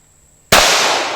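A single loud, sharp shot from a Glock 21 Gen 4 pistol firing .45 ACP outdoors, sudden after near silence, with a short ringing decay.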